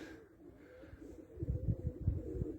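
White Istanbul pigeons coo softly inside a loft, low rhythmic pulsing calls repeating in the second half, faint and close with a quiet background hum.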